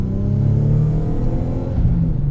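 Twin-turbo 3-liter V6 in a modified Nissan 300ZX 2+2 pulling hard, a loud close engine note climbing steadily in pitch with no one talking.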